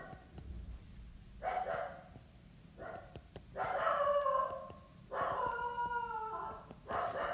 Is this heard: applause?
no